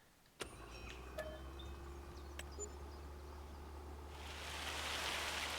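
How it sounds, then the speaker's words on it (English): Rain falls in Farming Simulator 25 on the Judith Plains, Montana map, a steady wash of hiss that swells louder toward the end over a low vehicle engine hum, with a couple of sharp clicks early on. "Rain!"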